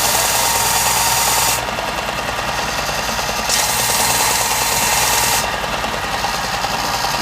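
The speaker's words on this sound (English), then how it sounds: "so I go back and sand in all 4 directions again" A power sander works the surface of a teak wood jointer's mallet with a loud, continuous buzzing whine close up, swelling and easing as the sanding direction changes, with no voices.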